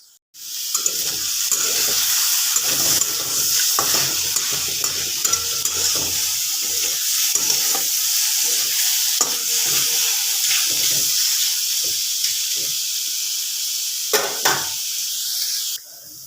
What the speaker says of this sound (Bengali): দেখো কেমন লাল লাল ভাজা হয়ে গেছে।